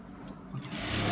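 Sewing machine running steadily as it stitches a zipper placket on a garment, a short close whirring burst that picks up slightly toward the end.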